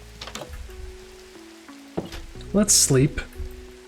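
Rain falls during a storm in Minecraft as a soft continuous hiss beneath game tones and chimes, and a voice briefly speaks partway through.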